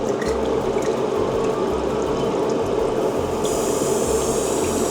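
Continuous hissing spray of water forced through an airbrush to clean it, steady and close, with a slight shift in tone partway through.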